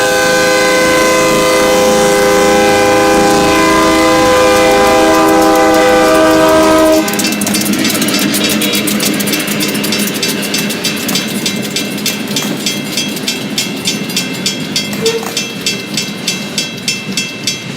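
A Great Lakes Central freight train passes a road crossing in Acme, Michigan, its loud multi-tone horn blaring for several seconds before giving way to steady rumbling and rhythmic clickety-clack of wheels over rail joints.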